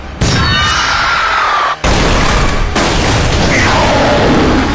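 Regular bullets fired at a Gastrea in a Black Bullet anime scene, loud booming gunshots with heavy continuous blasts and whistling streaks, a brief cut partway through.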